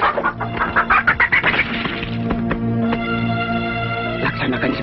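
A chicken clucks in quick repeated bursts at first, then settles into softer sounds while a voice speaks over it.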